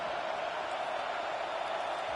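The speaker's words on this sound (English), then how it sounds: "These fans are going absolutely nuts" A college football crowd roars continuously inside an arena, a loud and dense wash of cheering that holds steady from start to finish with no pause.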